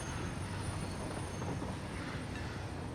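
A train rolls along in the factory-building game Satisfactory, giving off a continuous, fairly faint rumble with a thin high whine and no voices over it.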